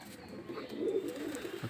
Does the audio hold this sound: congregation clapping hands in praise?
no